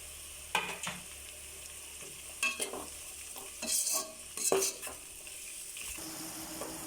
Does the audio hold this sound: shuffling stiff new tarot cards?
no